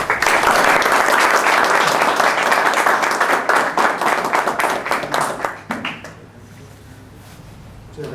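An audience at a law lecture applauds an invited speaker. The clapping is loud and sustained from a crowd close by, then thins out and fades to a murmur of the room.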